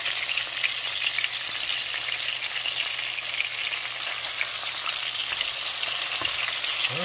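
Homemade chicken patties frying in a pan on a gas stove, a steady, moderate sizzle with faint crackles running throughout, close by and without any talking.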